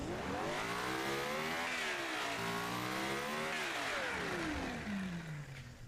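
Group C race car engine in the Automation video game, revving hard with pitch climbing, dipping and climbing again before a long falling sweep, loud and alone with no voices.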